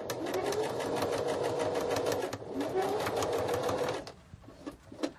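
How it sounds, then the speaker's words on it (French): A sewing machine stitches a zipper seam with a fast, even mechanical chatter for about four seconds, then stops, leaving a few faint clicks and handling sounds. "Maintenant, il ne me gêne plus pour terminer la piqûre de la fermeture."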